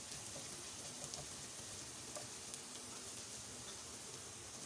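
Food frying lightly in a pan over low heat: a soft, steady sizzle with fine crackles and ticks, faint and continuous throughout, with no voices.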